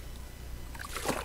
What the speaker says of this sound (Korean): 찰박찰박 물소리가 들렸다.